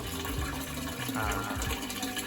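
Water from a fish tank pours and gushes steadily as the aquarium is drained, a continuous near wash of liquid with no talking.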